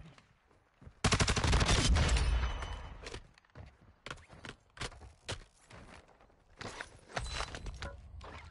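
Bursts of automatic gunfire in the video game Warzone, a loud sustained volley at first followed by scattered sharper shots and footstep-like clatter, with no talking.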